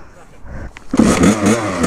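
Kawasaki KX100 dirt bike engine revving up, a quiet idle followed by a sharp loud rise into a buzzing, rough, bogging rev, with talk underneath.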